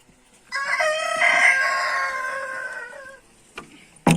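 A rooster crows once, loud and close, in a farmyard coop with chicks. The call is drawn out over about two and a half seconds and followed by brief clucking and a knock.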